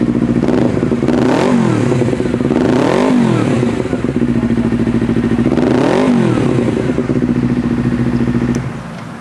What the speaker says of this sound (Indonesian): Jadi gue hidupin motornya.